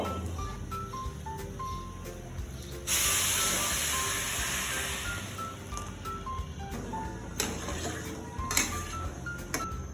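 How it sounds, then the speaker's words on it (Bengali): Hot water poured into fried pulao rice in a pan sets off a sudden loud hiss and bubbling that fades slowly. Sharp clicks and short high tones sound over a continuous background hum. "গরম জল দেওয়ার পরে জলটা ফুটে উঠেছে"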